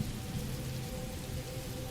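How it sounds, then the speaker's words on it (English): Rain falls steadily and densely, a loud even hiss with a low rumbling undertone, like a downpour drumming on a roof, with no voices. "The sound of the rain instantly softened, becoming a gentle, muted drumming on the roof"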